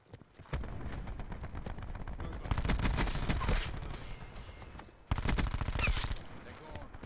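Cordite submachine gun in Call of Duty: Black Ops 4 firing in rapid, loud automatic bursts, with two long sprays separated by a brief pause, close and dense.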